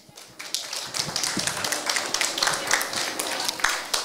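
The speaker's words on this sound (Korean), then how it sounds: "큰 박수로 환영해 주시기 바랍니다" A children's church group claps to welcome the preacher, with uneven, scattered claps from a small group that sound close and irregular, mixed with bits of voices and movement.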